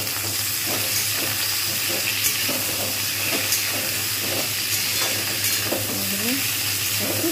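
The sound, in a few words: vegetables (pointed gourd, ridge gourd, drumstick) frying in pan for shukto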